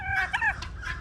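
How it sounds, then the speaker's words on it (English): A chicken gives a short burst of clucking up close, brief and fairly faint against quiet background. "This is the other pasture where the chickens,"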